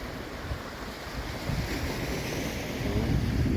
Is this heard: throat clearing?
no